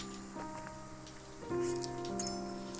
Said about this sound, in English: night is falling and the rain has yet to stop